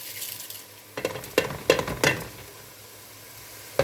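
Soaked mung beans tipped into a hot pot for mung bean soup with coconut milk, giving a few sharp splashy bursts and hisses over a low sizzle, then a quieter simmer.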